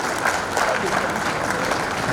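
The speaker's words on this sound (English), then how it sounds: "Can we clap, ladies and gentlemen?" Audience applause at an innovation summit in Ekiti, a steady dense wash of clapping from a crowd, sustained and fairly loud for about two seconds with no break.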